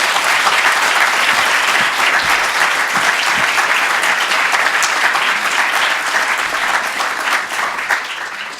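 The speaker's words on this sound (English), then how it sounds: "He should get a round of applause just for that." Sustained audience applause at a university architecture lecture honoring Professor Randall Korman, steady dense clapping from a full room that continues throughout and tapers slightly at the end.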